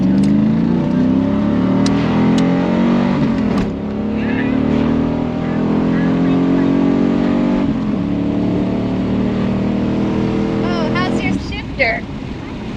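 A 1994 Chevrolet Camaro LT1 accelerating hard at a Texas Mile top-speed event, heard from inside the car as the engine climbs through gears with shift breaks, while someone talks over the roar.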